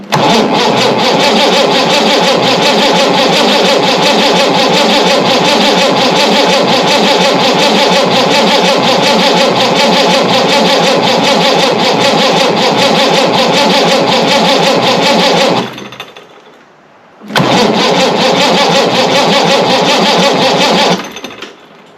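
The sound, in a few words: engine cranking and starting at full throttle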